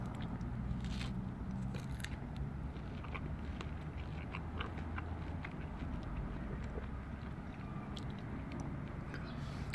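Biting and chewing a juicy ripe Flaming Fury peach, with soft crunches and wet mastication sounds repeating close to the mic over a quiet background for about ten seconds.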